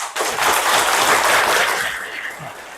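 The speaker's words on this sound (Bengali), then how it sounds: "একটা জোরে করে হাত তালি মারো একদম" Loud, dense applause from schoolgirls at Malda Girls' High School, many hands clapping together in a sustained burst that swells quickly, holds steady, then tapers slightly toward the end.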